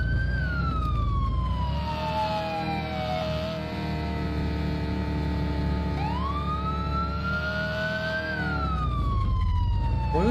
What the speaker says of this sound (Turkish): Siren anlık açılıp kapanıyor arkadaşlar.